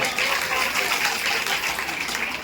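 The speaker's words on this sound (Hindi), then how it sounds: "जोर से तालियां बजाया करो" A crowd at a Bhagwat Katha religious discourse at the Shri Dauji temple in Jewar claps steadily, a dense, continuous wash of applause sustained for the whole stretch with no pauses.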